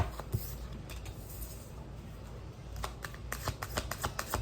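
Tarot cards are shuffled close by, producing quiet, soft papery riffles and light taps that quicken into a denser flutter toward the end, with no voices.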